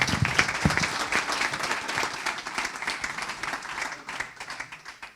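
Audience applause at the Proxid'Or award ceremony, a brisk crowd of hands clapping at close range, loud at first and gradually thinning out over a few seconds.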